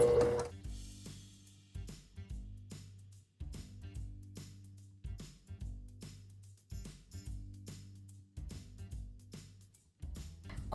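Sewing machine stitching a zippered pouch along a rounded edge, repeated short runs of mechanical whirring that start and stop in an irregular rhythm, close and fairly quiet with no talking.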